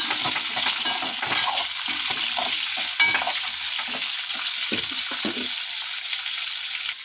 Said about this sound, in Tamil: வெங்காயத்தை சேர்த்துடலாம். நல்லா வதங்கட்டும்.